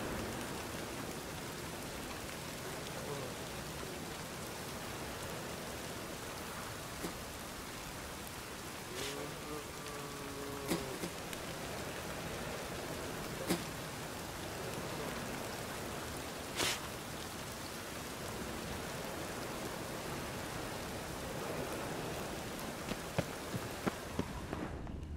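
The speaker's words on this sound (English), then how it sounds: "Rain again." Steady rain falls in The Witcher 3, a continuous even hiss of drops that runs the whole time at moderate, unbroken volume, with only a few faint brief knocks and tones rising above it.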